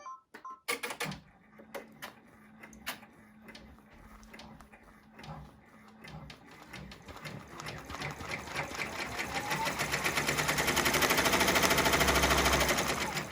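Embroidery machine stitching a teddy appliqué, a rapid, steady mechanical chatter of the needle that starts after a couple of soft clicks and gradually grows louder and denser, running alone without any talk.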